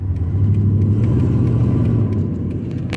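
A lifted old Chevy truck with a lift kit rumbles steadily up close, its engine idling loud and low with no talk over it.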